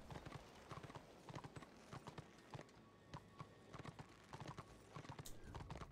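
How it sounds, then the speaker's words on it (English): Horse hooves clip-clop in Warhammer Online, a quiet, irregular run of hoofbeats at moderate pace, fairly faint and steady throughout with no voices. "The horses seem faster."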